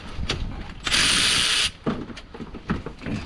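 Socket ratchet cracking a bolt loose during a gearbox removal on a 2013 Citroen DS3 clutch job, outdoors in the rain: one loud sustained ratcheting burst of under a second, then scattered lighter clicks and knocks.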